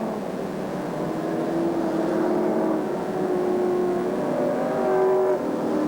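Race cars at a 1985 100-lap event at Alexandra Speedway roar steadily around the track, a continuous droning engine wash with rising revving notes, moderately distant and without any talk.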